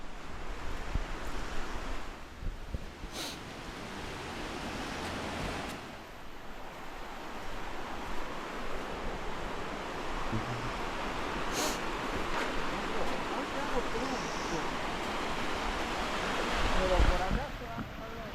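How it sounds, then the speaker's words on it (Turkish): A stream flows through a city in Tucumán, Argentina, giving a steady broadband rush of water that continues throughout with occasional faint background knocks and no clear speech. "Deremiz akıyor dere."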